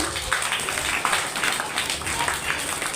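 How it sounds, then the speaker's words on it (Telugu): Children at a Sunday school retreat clapping for Cherry, a steady, even patter of many hands that continues throughout. "ఒకసారి చెర్రీకి గట్టిగా క్లాప్స్ కొట్టేసండి."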